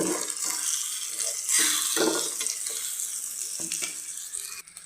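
Chilli powder and turmeric sizzle and crackle steadily in hot oil for tempering, with a few soft clinks of a utensil stirring the pan.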